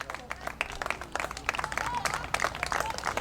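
Spectators at a varsity high school field hockey playoff game, Canton Bulldogs against Attleborough Blue Bombardiers, applaud a player walking off the field. Scattered outdoor clapping sits at a moderate distance beneath faint crowd murmur.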